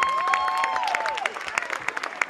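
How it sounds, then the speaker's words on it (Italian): Scattered clapping from a concert crowd, fairly light and brief, with a sustained voice or tone sliding down over the start. "fatevi un applauso perché siete stupendi"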